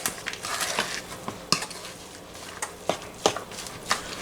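A utensil stirs salmon pastry filling in a pan, producing intermittent scraping clicks and soft clanks at an irregular pace over a faint background hiss.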